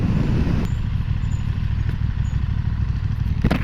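A KTM 1390 Super Duke motorcycle engine runs steadily while riding, a loud, close, continuous rumble with wind noise and a brief clatter near the end.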